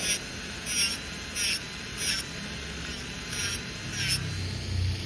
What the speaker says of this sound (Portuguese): vou vir com a minha broca de tungstênio e vou fazer o lixamento para remover excesso de produto